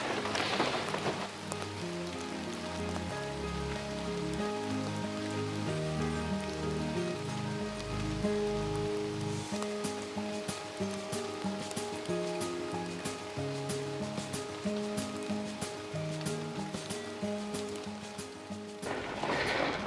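Steady rain falls outdoors in a vegetable garden, a dense continuous patter close by with no talk.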